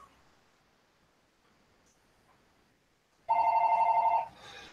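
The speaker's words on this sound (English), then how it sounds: "Oh, I got a phone call." A telephone rings with an incoming call indoors: after a quiet stretch a loud electronic ringing tone bursts in near the end, holds for about a second, then drops to a softer continuing ring.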